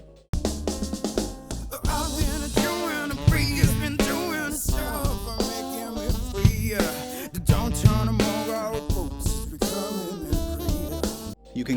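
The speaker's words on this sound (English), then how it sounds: "If we split it into three bands using a minimum phase EQ, once we recombine it, it sounds like this." Audio processed by splitting into three bands with a minimum phase EQ and recombining them, heard as a continuous dense musical passage with steady rhythmic pulses and rich harmonics, playing alone throughout.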